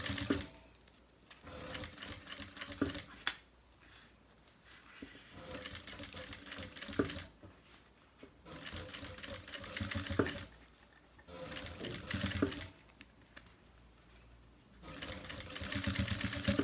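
A sewing machine runs a binder attachment to stitch bias binding on a small bag, with several steady bursts of rapid clattering stitching broken by brief pauses, close and moderate.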